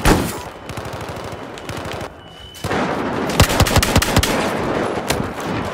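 Shotgun fire in a Call of Duty Black Ops Gun Master match rings out as a series of sharp, loud blasts, some in quick clusters, against a busy backdrop of game noise.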